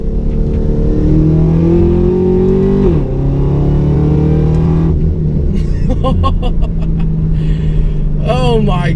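A modified 2013 Chevrolet Camaro ZL1 with a 670 horsepower V8 revs hard and drops pitch as it downshifts into second for corners, a loud, deep engine drone from inside the car with sharp blips and crackles toward the end.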